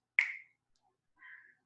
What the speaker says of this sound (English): So we're just going to snap our fingers.